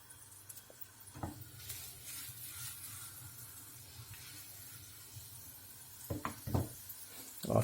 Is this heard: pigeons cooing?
no